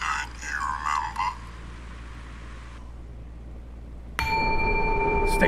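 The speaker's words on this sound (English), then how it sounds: "Bell rang again." A subway station bell rings in the horror game Anomaly Exit, a sudden bright, sustained metallic tone cutting in over a steady low rumble of train and station noise, following earlier muffled announcement-like sound.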